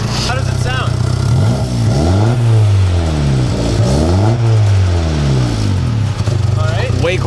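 Close, loud revving from a 2.0-litre Honda Civic EG hatchback with a new exhaust: two sweeping throttle blips rise and fall over a steady idle, followed by lighter revs.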